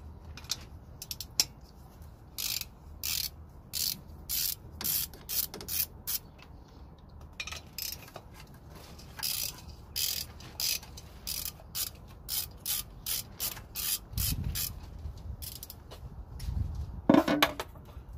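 A socket wrench with a 12 mm deep socket ratchets in quick repeated bursts of clicks, with short pauses between them, while removing nuts during head gasket work on a 2005 Toyota Prius. It sounds close and fairly quiet.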